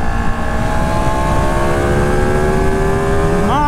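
A 2018 Ducati Panigale 1299R Final Edition engine revs up under throttle while riding, a loud close-up roar whose tone climbs steadily, with wind rush throughout.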